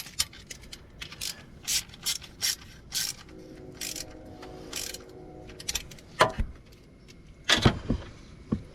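Ratchet with a deep socket clicking on EGR pipe bolts of a 2004 Hemi Ram 1500, loud close bursts of rapid pawl clicks repeating in short strokes, with a brief metallic clank near the end and no talking.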